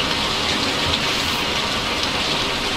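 Steady, dense rain falls in the farming video game Stardew Valley, a constant even hiss of drops filling the scene with no breaks or voices.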